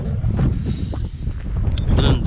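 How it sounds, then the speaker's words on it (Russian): Cold winter wind gusts across the microphone on a quiet street in Sudak, Crimea, a steady low rumbling buffet that swells and dips throughout. "Ветер холодный."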